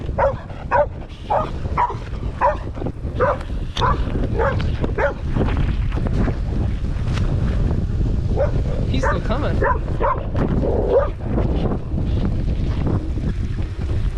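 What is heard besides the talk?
dog barking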